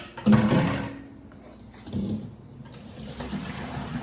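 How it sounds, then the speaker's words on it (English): Boiled potatoes for shepherd's pie are poured into a metal colander, giving a short loud splash and rush of draining water, then a quieter trickle and clatter of the pan and potatoes settling. "I'm going to strain them in the colander here"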